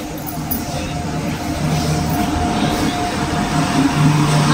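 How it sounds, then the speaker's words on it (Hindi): A train passes near Baleswar in a loud, steady rumble of rolling wheels and rail noise that builds slightly toward the end, with voices mixed into the din. "उड़ बाबा ट्रेन आसी गला"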